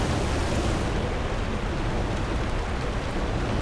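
A waterfall roars in the video game Final Fantasy XIV, a dense, steady wall of rushing water that is close and loud and stays constant throughout with no talking.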